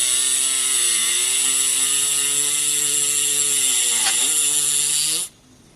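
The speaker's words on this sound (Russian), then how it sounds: "посмотрим, как поведет себя бесщеточный микромотор на скорости 5000 оборотов в минуту, также при сильном сопротивлении" A brushless micromotor nail drill at 5000 rpm grinds a plastic nail tip with a loud, steady high-pitched whine. The pitch dips briefly under heavy pressure, then the drill stops abruptly near the end.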